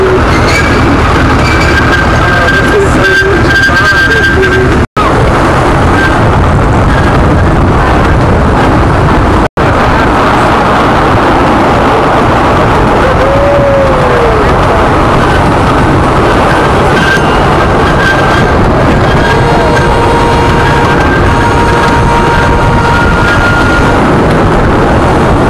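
Continuous rumble of a moving train heard from inside a carriage, with a steady broadband roar, a brief squeal partway through and two sharp clicks, and no voices.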